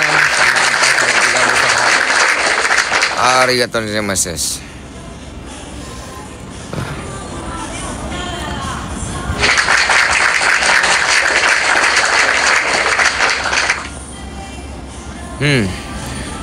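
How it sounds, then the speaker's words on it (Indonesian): Bursts of clapping for newly arrived guests during a live stream from Japan, filling two long stretches of several seconds each, with people talking and laughing over and between them. "Kita kasih tepuk tangan dulu buat yang baru datang."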